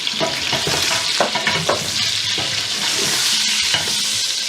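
Onion hitting hot oil in a pot of goat meat jollof rice, a loud, continuous close sizzle with stirring scrapes and crackles, no voices.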